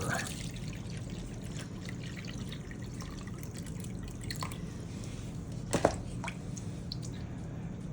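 Water pours from a mixing bowl into a microwave pasta boat, a faint, steady trickle and drip with a brief splash near the end.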